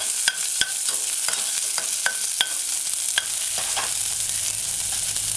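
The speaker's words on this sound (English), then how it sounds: "Add your chopped or sliced onions or onion. Stir it in a couple times. Allow it to saute." Chopped onions sautéing in a pan for a mushroom chickpea stew, a constant close sizzle broken by sharp spoon scrapes and taps as they are stirred, no talk.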